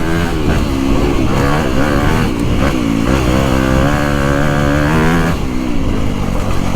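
A 2025 Honda CRF250R Works Edition four-stroke dirt bike engine revs loudly and close up, its pitch climbing and dropping in several quick bursts without pause.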